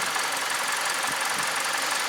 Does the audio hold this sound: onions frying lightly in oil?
no